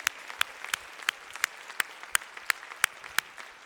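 Church congregation at a Spanish-language worship service claps in sparse, regular individual claps, a steady rhythm of sharp hand strikes at moderate distance with no voices over them.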